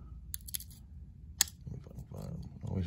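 Small scissors on a Victorinox Super Tinker Swiss Army knife snap and click open, a few sharp metallic ticks close up among handling noise, with someone talking over them.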